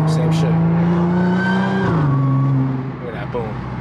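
Supercharged Audi S4 in dynamic mode downshifting through its paddle shifter: a steady, loud engine drone drops sharply in pitch partway through as the gear changes, then settles lower and slightly quieter.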